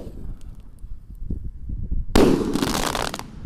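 Mercon Roman candle fireworks, sizes 1.8 and 1.9, are lit outdoors: a quiet fizzing fuse gives way to a loud burst of crackling, whooshing discharge that holds for about a second, with no voices.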